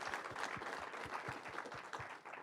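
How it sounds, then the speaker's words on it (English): An audience at a search technology conference panel claps for the panelists, a fairly quiet, distant patter with individual claps showing through, trailing off toward the end. "Can we have a round of applause, please, for our panelists?"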